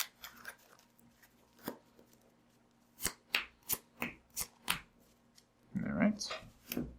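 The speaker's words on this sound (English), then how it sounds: "So once you're done shuffling," Magic: The Gathering cards being shuffled by hand, a series of sharp close riffles and snaps, then a denser burst of card handling near the end, with a few soft voice sounds.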